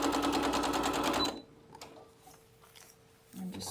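A sewing machine stitches the final seam joining quilt rows, running with a fast steady mechanical whir for just over a second before stopping, leaving quiet handling sounds and a faint hum.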